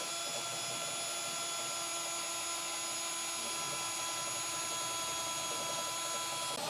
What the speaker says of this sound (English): take our 1/2 inch drill bit and run it through that part of the frame